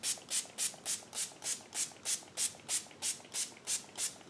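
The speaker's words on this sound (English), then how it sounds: "Now, it's time to spray." A budget cosmetic setting spray mists onto a face in about a dozen quick, evenly spaced hissing pumps, each a short airy burst, close and clear with no talking.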